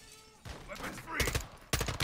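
Gunfire in Call of Duty: Modern Warfare 2 during an AC-130 mission: bursts of broadband shots crack in around the half-second mark and again near the end, loud and close, with a voice talking in the first half.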